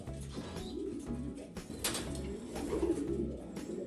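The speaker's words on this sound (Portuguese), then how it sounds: "Essa pombinha aqui," A breeder's pigeon in a loft cooing softly in a few repeated low, throaty phrases, close and quiet with no talk.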